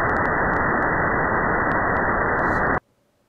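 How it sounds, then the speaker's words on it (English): Band-limited noise confined between 0 and 2 kHz, a steady dull hiss-roar at constant loudness that cuts off abruptly near the end, followed by near silence. "we get the final noise between 0 and 2 kilohertz."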